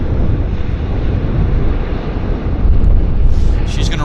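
An airliner rolls out along the runway after touching down at Vancouver airport, a loud steady low rumble and roar of engines dominated by heavy wind buffeting on the microphone, with no voices.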